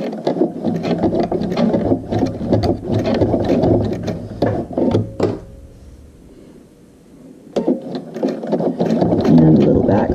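A sewing machine stitches quilt binding with a close, rapid mechanical chatter. It pauses briefly, then runs again for a short back stitch. Low voices may sound under the machine.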